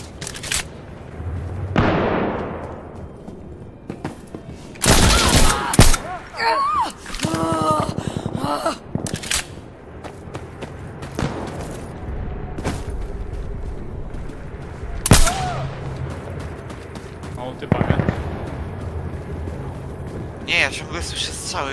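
Gunfire and explosive booms in Insurgency Sandstorm, with sharp loud bursts scattered across the stretch and heavier volleys near the middle, set among game ambience and players talking.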